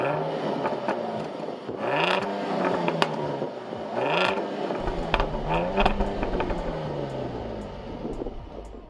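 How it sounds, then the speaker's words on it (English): A Jaguar F-Type with sport exhaust starts and revs, giving several rising and falling engine sweeps with sharp exhaust crackles between them, close and loud with no talking. "This is for the exhaust. So what I'm going to do, if I start it up, if you head round to the back"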